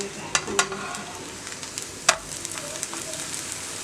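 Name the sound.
pancake cooking in a pan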